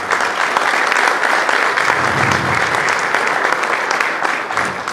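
A convention audience at a Bolivian Rotary gathering bursts into loud, sustained applause filling the hall, dense clapping continuing evenly for several seconds before easing slightly at the end.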